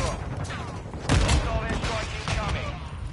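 Suppressed gunfire in a multiplayer shooter video game, dense overlapping muffled shots and impacts with a low thump mid-clip, continuous and loud, with a voice talking over it.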